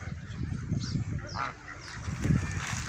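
Swans and wild ducks near the water at Shepilsk give honking, quacking calls close by, mixed with a person talking.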